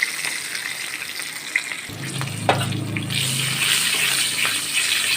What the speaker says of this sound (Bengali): এর মধ্যে আমি পাঁচ ফোড়ন দিয়ে কাঁচা লঙ্কা, পাঁচ ফোড়ন আর কাঁচা লঙ্কা ফোড়ন দেব